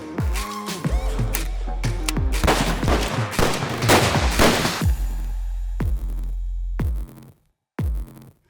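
A hand cannon handgun fires a string of loud, close shots with booming reports and ringing decay, then a pause before one final shot.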